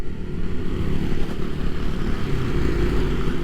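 A Yamaha Nmax Turbo scooter on the road, engine braking after the throttle closes: a steady, dense engine drone under rushing wind, loud and close, with no speech.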